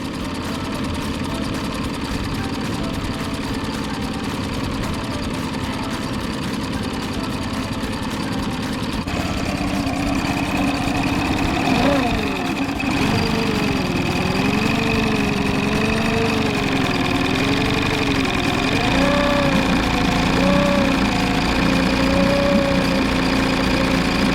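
A 2020 Mercury 20HP EFI outboard engine idles steadily after its first start, a continuous close mechanical hum that grows slightly louder partway through, with a wavering tone riding over the running engine.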